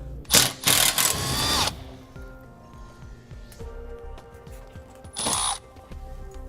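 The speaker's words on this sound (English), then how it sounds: "We'll be using a 3/8 socket to remove them." Screws come out of an RV trailer hitch fitting under a power tool with a 3/8 socket, heard as a few loud close bursts of whirring and rattling separated by quieter clicks and handling noise.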